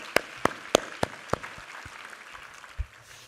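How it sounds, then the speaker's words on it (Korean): Congregation at a Korean church service clapping a handful of sharp, evenly spaced claps that quickly fade into a quiet hall. "우리 하나님께 감사와 영광의 박수 올려드리겠습니다."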